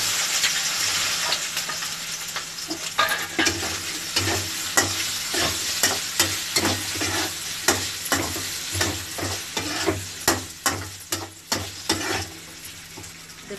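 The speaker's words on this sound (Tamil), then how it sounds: "நறுக்கின உருளைக்கிழங்க 5 ஸ்பூன் எண்ணெய் விட்டுட்டு அதில் போட்டுருங்க" Finely chopped potatoes sizzle in about five spoons of hot oil in a pan for a Tamil potato podimas, with a steady frying hiss and regular scraping strokes of a spoon stirring them, close and fairly loud.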